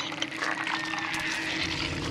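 Water in a video game, with a steady liquid wash that sounds like splashing or pouring. It runs continuously and evenly at moderate level through the clip, with no speech over it.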